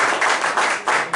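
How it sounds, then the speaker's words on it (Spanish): A church congregation claps in strong bursts of applause that swell and dip in rhythmic waves, close and loud, with no voices. "Una fuerte ronda de palmas en Dios."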